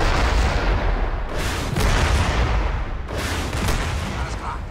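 Heavy gunfire and booming blasts of a tank fight in the Crysis campaign, loud and dense with rolling reports in two surges and faint voices underneath.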